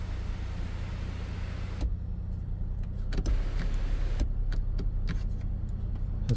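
Electric sunroof on a 2017 BMW 318i Sport Touring automatic, opening with a steady low motor whir inside the car cabin, broken by several clicks and light mechanical taps as the panel moves; no talking.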